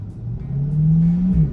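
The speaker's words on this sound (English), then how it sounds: "This V8 just sounds fantastic." A V8 sports car engine, either a C8 Corvette or a McLaren 570S, revs up in a rising, loud, close growl that swells and then drops off, with no talk.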